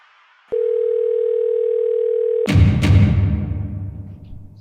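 A telephone dial tone hums steadily for about two seconds, then cuts off into a clatter and low rumbling handling noise.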